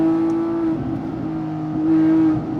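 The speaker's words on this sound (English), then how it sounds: "Little rev match, and we're out to the track." Porsche 997.2 GT3 RS with its 3.8-litre Mezger flat-six blipping the throttle to rev match on a downshift, a loud close engine drone that rises briefly in pitch, with no talking.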